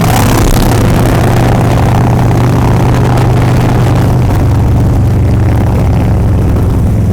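A Harley-Davidson cruiser built for low-end torque rides at highway speed, its loud, steady low engine drone mixed with rushing wind noise that stays constant the whole time.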